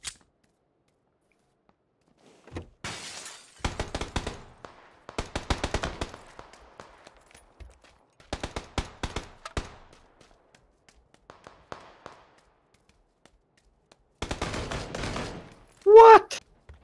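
Gunshots ring out in rapid bursts of fire, several separate volleys of sharp cracks with quiet gaps between them, and a brief loud tonal sound near the end.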